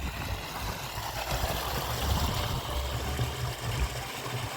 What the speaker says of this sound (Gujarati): બે મોટરનું પાણી હાલે છે